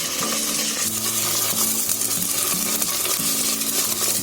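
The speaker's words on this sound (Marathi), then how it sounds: "आता आलं लसूणची पेस्ट टाकून पण मी 1 मिनिट ढवळून घेतलाय" Onion frying on full heat with ginger garlic paste, stirred in a pan: dense continuous sizzle with repeated scraping strokes of the spoon, close and loud, with no voices.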